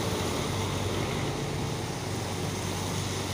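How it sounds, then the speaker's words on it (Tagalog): Heavy rain and strong wind roar in a dense, unbroken wash of noise, loud and close, with no voices and no variation over the few seconds. "Perting kusuga kayo sa ulan. Hangin pa jud."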